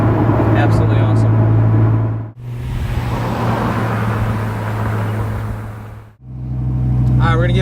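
A supercharged 2002 Dodge Viper GTS drones at a steady low engine note from inside the car, with two brief gaps where the sound dips as it shifts, and someone talks over it.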